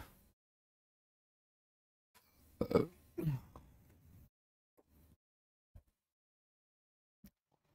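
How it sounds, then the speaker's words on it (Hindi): A few abrupt throaty hiccups from a male maths teacher in a classroom, fairly close, two stronger jerks followed by fainter isolated ones and near silence between. "हिचकी भी आ गई आज तो पहली बार क्लास में"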